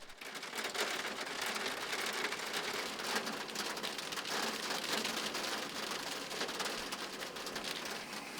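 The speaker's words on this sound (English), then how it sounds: "before long light hailstones were raining down" Steady, dense patter of small hailstones striking surfaces, continuous and fairly even throughout, with no voices.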